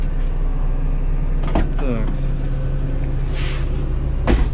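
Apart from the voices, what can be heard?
city bus doors being opened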